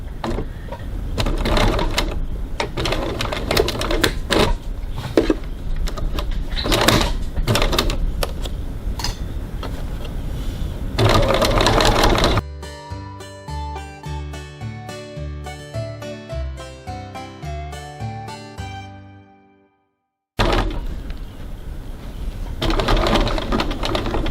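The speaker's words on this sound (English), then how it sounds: "I'm going to stitch it on with approximately 6mm, 1/4 of an inch seam" A domestic sewing machine bastes a flap onto a bag with a quarter-inch seam, its needle running in loud, rapid bursts with short pauses, then a slower, steady stitching stretch, a brief silence and another fast run.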